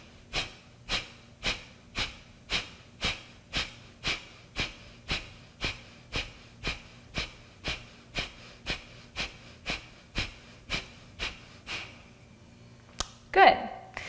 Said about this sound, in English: So try this just very gently to begin with, in and out through your nose.